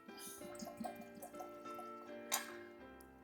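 Ginato Pinot Grigio gin is poured from its bottle into a glass, making a faint, quiet trickle with soft gurgles and small drips close by.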